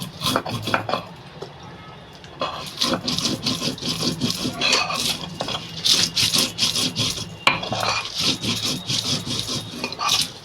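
A spice paste of coriander, dried chilli and ginger is ground by hand in Bengali home cooking, giving repeated rough rubbing and scraping strokes in a steady rhythm, close up, with no speech.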